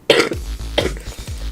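A person coughs close to the microphone in two or three harsh, throaty bursts in quick succession, each trailing into a low rasp.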